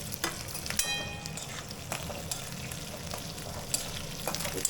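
Thickly cut onions sizzle in a hot pan for chilli chicken, a steady crackle broken by a few sharp clinks of a spoon stirring.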